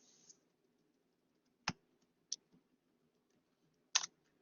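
Sparse keystrokes on a computer keyboard tap out in a quiet room: a few isolated sharp clicks spaced irregularly, close and crisp, with long silences between them.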